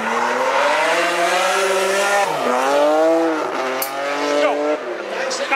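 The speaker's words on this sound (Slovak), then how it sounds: "keď sa džerú gumy, pekné driftíky v nebo aj rýchlosti." A drifting car at the Power Fest 2012 drift show in Bolkovce revs loudly with rising and falling engine pitch, and its tires squeal through the slides, close and continuous, with a voice heard faintly.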